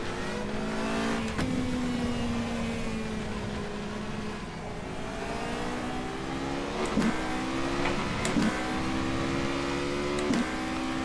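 A 2014 Formula Renault 3.5 single-seater in rFactor 2 at Silverstone holds a loud, steady engine drone throughout, with abrupt gear shifts and sharp revs bouncing off the limiter around the seventh to eleventh seconds.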